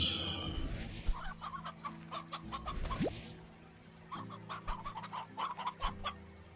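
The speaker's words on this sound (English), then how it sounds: "Okay, let's grab some of my stony hens." Stony hens in the video game Slime Rancher cluck repeatedly in uneven bursts of short calls, close and fairly clear over a quiet game background, with no talking.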